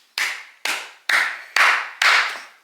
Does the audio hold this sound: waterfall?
no